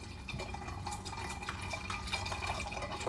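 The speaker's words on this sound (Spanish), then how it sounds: "Vamos a poner agua mineral" Mineral water pours into a jug while a grapefruit drink is being mixed, a continuous splashing, bubbling trickle heard up close with no talking.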